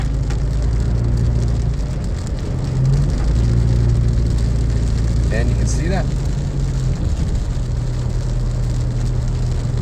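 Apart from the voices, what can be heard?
heavy rain heard from a driving car in Big Bear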